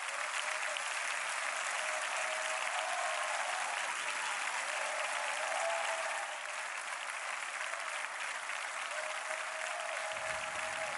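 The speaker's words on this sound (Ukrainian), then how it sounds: "Зал затихає лише для того, щоб тепер вже вибухнути аплодисментами" Sustained, dense applause fills a large hall as the Canadian prime minister and Ukraine's president with his wife enter, steady and loud throughout with no talk over it.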